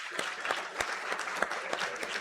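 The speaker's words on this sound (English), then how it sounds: "give a round of applause for David, everybody" A small banquet audience at an esports event applauds, the clapping steady and moderately close with a few sharper individual claps standing out across the short stretch.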